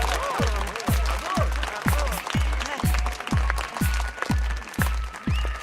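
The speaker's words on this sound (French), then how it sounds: "Je voudrais un tonnerre d'applaudissements pour Elisabeth Olsey." Rhythmic heavy thumps pound in a steady beat alongside scattered claps and crowd noise at an award presentation, with voices talking over it.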